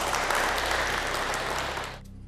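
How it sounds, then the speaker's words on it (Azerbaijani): An audience in a quiz show studio applauds, a dense, steady round of clapping from many people that holds for about two seconds and then stops abruptly. "Alqışlayaq."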